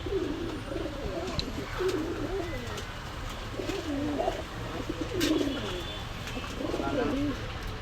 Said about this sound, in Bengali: খুব সুন্দর কোয়ালিটির কবুতর